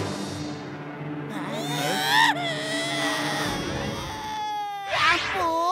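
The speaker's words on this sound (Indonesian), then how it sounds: "ternyata suara tangisan anak itu berasal dari alat perekam ini" A recorded child's cry plays from a recording device in an animated cartoon, steady wavering wails with rising and falling sobs, loud and continuous with a brief shrill burst near the end.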